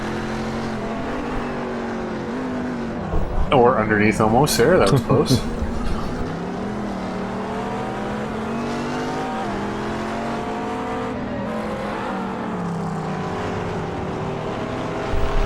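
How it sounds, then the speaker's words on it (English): GT cars battle wheel to wheel at Brands Hatch in a racing game, engines droning and shifting pitch continuously while a commentator talks over them, with a louder burst of revving midway. "these cars are interclass cars are going between each other"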